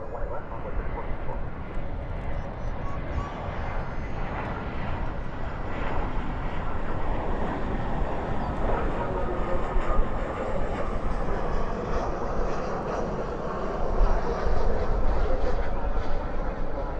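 An airliner rolls out after landing at night at DFW airport with spoilers up and thrust reversers deployed, a loud, sustained engine roar and rumble lasting throughout, with faint talk at times.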